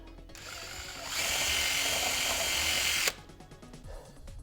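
A power drill whines at high speed for a couple of seconds, grinding through 3D-printed support material, then cuts off leaving faint clicks and rattles.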